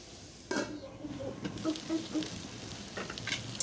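Fresh garden Malabar spinach sizzles in a wok being cooked down under a lid, with a steady frying hiss and a few light spoon scrapes and clinks over a couple of seconds.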